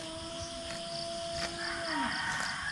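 A five-day-old calf named Palo bawls on seeing Paloma: one long, steady, fairly faint call that slides downward at the end, over a rustling outdoor background.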